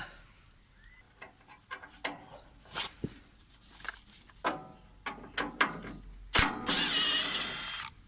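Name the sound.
spanner ratcheting bolts on sweeper brush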